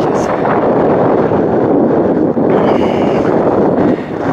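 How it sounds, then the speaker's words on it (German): Icy wind blowing hard across a mountain summit in the Harz, roaring steadily into the microphone with continuous rumbling gusts throughout. "weil der Wind doch recht eisig ist"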